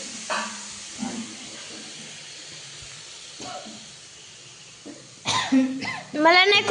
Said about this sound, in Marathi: मला नाही खोकला आला आणि तुला आलंय